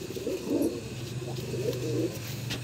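Kaldum pigeon, a large-sized fancy breed, coos softly in low repeated throaty phrases, close by, with no talking.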